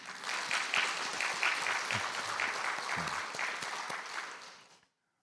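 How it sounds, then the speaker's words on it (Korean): Evening church congregation applauding together: full, continuous clapping from many hands at a steady level, tapering off and stopping near the end. "박수 한번 치겠습니다"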